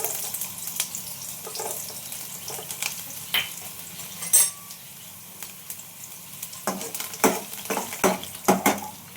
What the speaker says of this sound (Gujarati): જો તેલ ગરમ થઈ ગયું છે તો એમાં આપણે લસણની કટકી ઉમેરી દઈશું